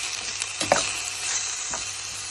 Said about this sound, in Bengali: তারপরে পেঁয়াজটা ভেজে মশলাটা কষতে শুরু করলাম।